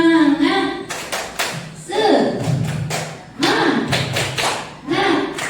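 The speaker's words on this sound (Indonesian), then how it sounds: "Kita tepuk semangat dulu" A group performs the Indonesian 'tepuk semangat' rhythmic cheer, crisp claps landing in quick patterned bursts with voices chanting between them, close and loud.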